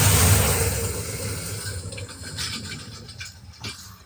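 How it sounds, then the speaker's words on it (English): Hot simmered grain is poured from a pot into a jar. A loud wet slushing pour starts strong, then tapers into softer trickles and scattered patters, close by with no talk. "So you got a nice hot pot of grain here. And I just pour it in there."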